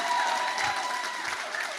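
A church congregation claps softly during a Tagalog sermon, a continuous gentle patter of many hands filling the room without voices.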